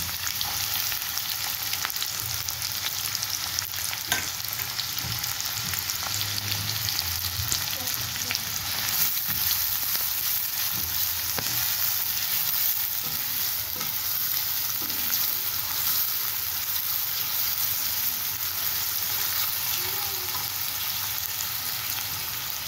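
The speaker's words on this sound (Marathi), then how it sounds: "आता मी कढईमध्ये तेल टाकलं आहे, लगेच कांदा टाकून घेते।" Onion frying in hot oil in a kadhai for pav bhaji, a steady close crackling sizzle with occasional stirring scrapes, continuous and alone throughout.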